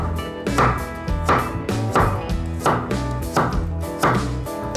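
A knife chopping onion into small cubes for a dried-beef and pumpkin risotto, striking the board in a steady, quick rhythm of close, crisp thuds.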